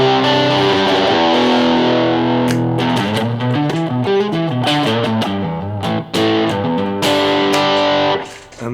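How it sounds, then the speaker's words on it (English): An electric guitar played through a 100 watt amp with distortion, loud sustained chords followed by a run of choppy, rhythmic distorted notes with brief gaps, no talk over it. "Let's put the distortion on."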